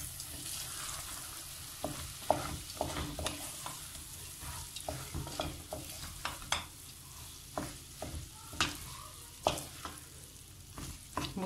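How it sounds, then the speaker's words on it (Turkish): A spoon scrapes and clinks against a bowl of lemon-dressed food, an irregular series of sharp taps close up, quiet and alone. "Karıştırıyoruz."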